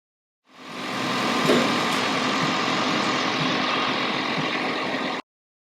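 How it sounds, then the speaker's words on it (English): A Toyota Prius engine running to bleed air from the cooling system after a coolant drain and fill, starting up and holding a steady close idle hum for about five seconds before cutting off abruptly. "we got to run the engine to get the air out of the heater cord"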